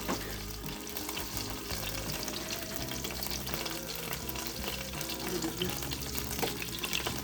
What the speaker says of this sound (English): I'm just taking my little wooden spoon and scraping some of that up in there